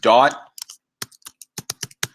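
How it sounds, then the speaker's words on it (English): Keys are typed on a computer keyboard in insert mode. Soft, separate clicks come in an uneven rhythm after a short vocal sound at the start. "we're now in insert mode, so we could start typing"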